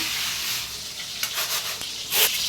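Catla fish with potato and pointed gourd sizzling in a pan, a steady bright hiss with soft stirring scrapes and a few louder bursts near the end, no voices.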